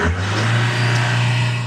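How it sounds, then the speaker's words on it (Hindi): A Mahindra Bolero BS6 pickup's diesel engine runs close by with a steady low idle hum that swells slightly as the accelerator is pressed, continuous and loud with no talk. "अब गाड़ी को स्टार्ट करवा के गाड़ी का एक्सीलेटर लेते हैं।"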